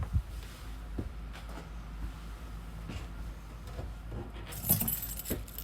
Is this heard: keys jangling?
yes